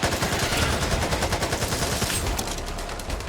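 Rapid automatic gunfire from a zombie-survival shooter, Back 4 Blood, in versus mode: dense, continuous bursts of shots that hammer on without pause, loud and close, with no one talking.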